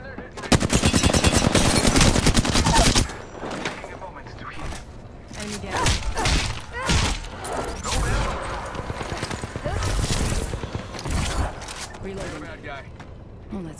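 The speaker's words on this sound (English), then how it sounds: "Shots fired and they're hitting" Sustained automatic fire rips out in a long, loud burst in the Apex Legends video game, followed by scattered shots, mechanical clacks and reload noises, with speech mixed in.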